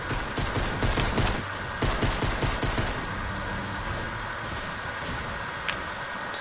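Rapid gunfire crackles in bursts in the Fortnite battle royale video game, dense and close for the first few seconds, then giving way to a quieter background hum with a single faint pop later.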